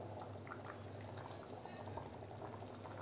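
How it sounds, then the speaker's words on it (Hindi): Rajma kidney beans boil in a pot with oil risen to the top, a dense, continuous bubbling and popping heard close up and fairly quiet. "देखिए बढ़िया से हमारे राजमा उबल गए हैं, ऊपर तेल निकल आया है"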